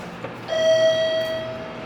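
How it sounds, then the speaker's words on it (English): A single clear electronic chime from a new hydraulic elevator's in-car and hall chimes rings and holds for about a second, bright and steady, then fades away in a quiet space. "Both the in-car and the hall chime rang."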